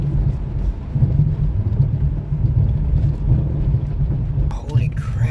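A car with worn front suspension drives along with a constant low rumble and clunking road noise, a faint rattle from below, and a brief higher noise near the end.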